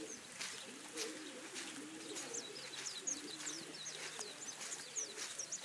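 Pigeons coo softly and steadily in a loft in Puna, Hilo, Hawaii, their low murmurs overlapping while high chirps and faint rustles come through in the background. The sound is quiet and close, with no talk.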